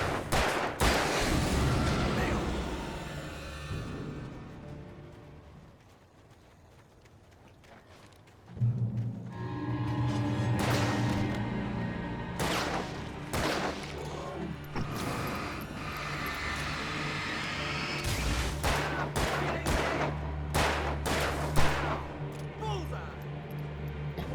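Alan Wake Remastered gunfire sounds as a scattered series of loud, sharp shots and volleys, clustered early and again toward the end, over tense game ambience with voices talking between bursts.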